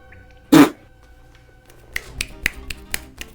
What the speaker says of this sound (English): that was the sound of one hand clapping,